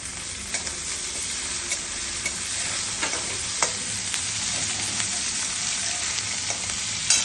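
Onion and tomato sizzle steadily in a hot pan for sevai upma, with a continuous close frying hiss broken by light, repeated stirring scrapes and taps of a spatula.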